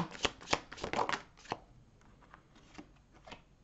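Tarot cards are shuffled in a quick run of crisp riffling slaps, then a softer stretch of card-drawing and sliding, all close and fairly quiet with no talking.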